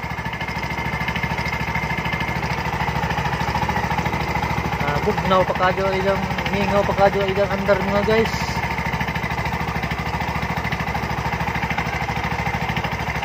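Engine of a Bajaj three-wheeler, a used bao-bao in good condition, runs at a steady close idle with a rapid, rough chugging throughout, while someone talks over it.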